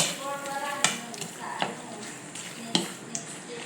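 Chicken adobo sizzling in a pan while being stirred, with scraping spoon strokes and occasional sharp clinks against the metal over a continuous bright frying hiss, close and fairly loud.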